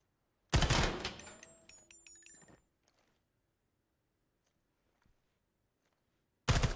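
Automatic rifle fire in the Ground Branch tactical shooter: a loud, close rattling burst of rapid shots that trails off, then silence before another sharp burst starts at the end.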